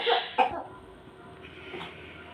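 Two short coughs from a child close by, the second sharper, followed by a quieter breathy sound in a hushed room.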